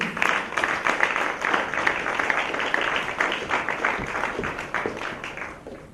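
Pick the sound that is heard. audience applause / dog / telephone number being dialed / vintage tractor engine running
audience applause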